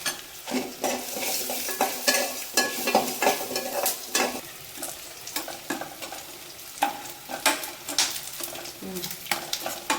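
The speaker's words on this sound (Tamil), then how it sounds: "வெங்காயம் வதங்கிடுச்சு" Onions sauté in a pan for tomato rice, crackling and sizzling steadily while a utensil scrapes and clinks against the metal in irregular stirring strokes throughout.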